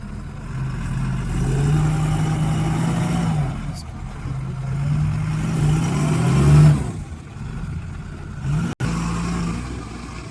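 On a mountain road, a bus engine drones and revs in surges as a tyre sits stuck, with a low rumble rising and falling and a sharp knock near the end. People talk over it.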